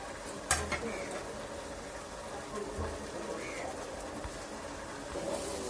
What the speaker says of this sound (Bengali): এখন যেহেতু আমি মশলাগুলো সব দিয়েছি, সুন্দর করে ভালোভাবে মশলাটাকে নাড়া দিয়ে দেবো